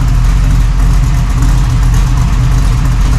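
A 1968 Chevrolet Nova Super Sport V8 idles with a Flowmaster stainless muffler, a steady deep low rumble, loud and close, with no voices over it.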